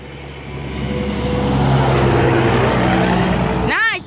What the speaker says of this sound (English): Look at this truck.